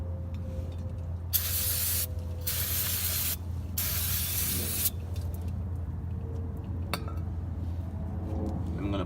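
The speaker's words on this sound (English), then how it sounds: "I'm going to clean my area with some brake cleaner." Brake cleaner sprayed onto the rear brakes of an Acura TSX during a pad replacement: several loud hissing aerosol bursts, close by, over a steady background hum, followed by a few light metallic clinks.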